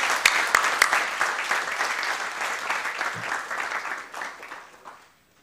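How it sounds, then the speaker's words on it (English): A graduation audience breaks into a loud round of applause, dense crowd clapping close up that holds strongly, then thins and fades away to quiet over the last second. "So a round of applause for them."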